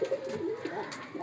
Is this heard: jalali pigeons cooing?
yes